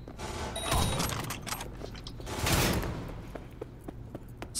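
Gunfire in the Cyberpunk 2077 video game: a loud mechanical burst rises near the start, a second heavy swell comes mid-clip, and fainter scattered shots and clicks follow toward the end, with no talking.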